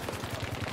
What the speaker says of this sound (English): Let me try the new gun out.